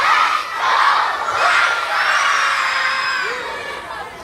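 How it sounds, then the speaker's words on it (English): Chicago White Sox baseball crowd cheering and shouting in a stadium, a loud sustained roar of many voices with whoops and yells rising and falling over several seconds. "White Sox fans cheered."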